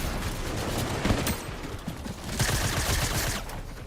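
Rapid bursts of gunfire from a video game rattle on for several seconds, dense and fairly close, with no talking over them.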